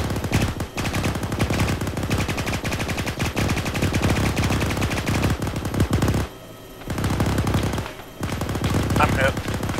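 Machine gun fire in a video game, loud sustained automatic bursts in long rapid strings with two brief pauses, near and dominant.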